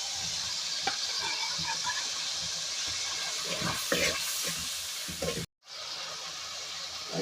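Chickpeas frying in a pot with ginger-garlic paste, tomato, chopped green chillies, spices and biryani masala, a steady close sizzle and hiss running throughout, cut by a brief dropout near the end.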